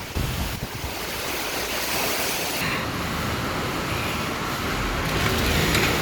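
Strong, roaring typhoon wind buffets the microphone without a break, a dense rushing noise that stays loud throughout with no voices.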